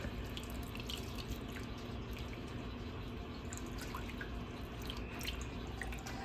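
Water poured from a container over corned beef sitting in a cooking pot, a continuous close splashing and trickling with scattered drips throughout, no talking.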